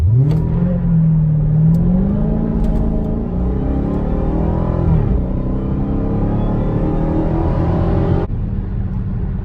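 A Dodge Charger SRT Hellcat in eco mode pulls away from a dead stop, its engine rising through the gears with a loud, close whine and rumble, and the pitch drops at each shift.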